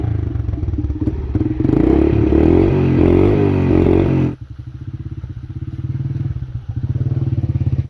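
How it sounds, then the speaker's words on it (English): A motorcycle engine warming up at a homestead, loud and close, first revving with rattling clatter, then dropping abruptly to a steady, lumpy idle chug that pulses on to the end. "motorcycle warmed up and ready for him"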